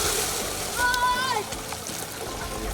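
Water splashes and sloshes as people swim in a deep river holding jerry cans for support, a continuous close churning with a brief whistle-like tone in the middle.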